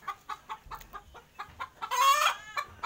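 Hens cluck in a rapid series of short, close, clipped notes, then one louder drawn-out squawk rises near the end before the clucking resumes.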